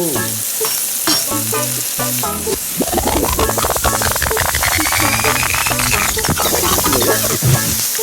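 Food sizzles steadily as it is stir-fried in a pan while making jjapaguri, with continuous crackling frying noise running under background music throughout.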